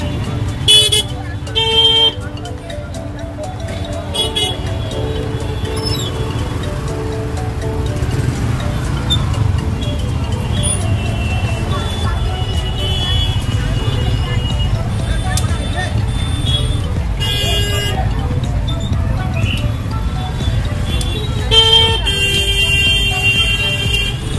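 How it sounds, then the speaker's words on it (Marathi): Heavy road traffic heard from inside an auto rickshaw on Raksha Bandhan, a steady dense engine and road rumble with scattered horn toots throughout, loud and close. "सगळीकडे पूर्ण ट्रॅफिक आहे रोडला पूर्ण"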